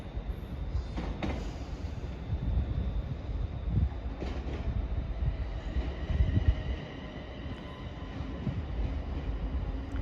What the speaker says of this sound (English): And arriving now is the 15:54 ScotRail service from Helensburgh Central to Edinburgh Waverley.